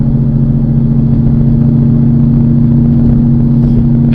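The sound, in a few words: 2016 Mustang GT Coyote engine droning at low RPM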